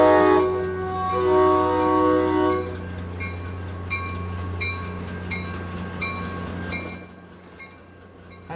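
A train on the railroad bridge over the Cape Cod Canal at Buzzards Bay sounds a long, loud multi-tone horn blast, then rolls on with steady rumble and rhythmic clicking wheels, fading slightly at the end.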